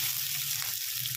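Chopped onions fry over full flame in a pan for spinach kofta curry, giving a steady, dense sizzle without a break.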